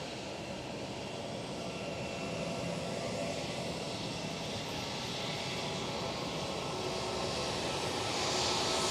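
ITA and KLM Cityhopper airliners move along the taxiway at Schiphol, their jet engines making a steady, moderately distant hum and whine that builds slightly toward the end.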